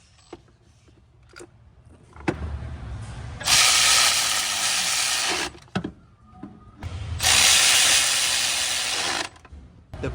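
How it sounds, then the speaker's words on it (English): An electric wrench snugs down spark plugs on a Toyota FJ Cruiser's 4.0L V6, whirring in two long, loud, steady bursts with clicks and handling noises before and between. "I use an electric wrench to snug the spark plugs down."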